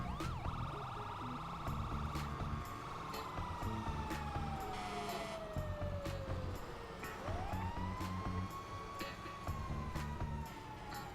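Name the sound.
fire truck and police car sirens responding to a call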